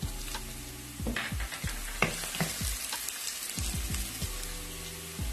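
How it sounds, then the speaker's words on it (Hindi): Chopped ginger and garlic frying for mutton mandi, a steady close sizzle in hot oil with repeated stirring scrapes and clinks of a spoon against the pan throughout. "अब इसमें मैं फाइन चॉप जिंजर गार्लिक डाल रही हूँ"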